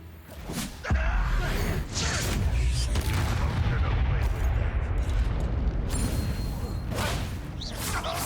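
In the Hogwarts Legacy video game, the Incendio fire spell is cast during a wizard duel, with a sharp booming burst and a roaring whoosh of flames that rumbles on for several seconds.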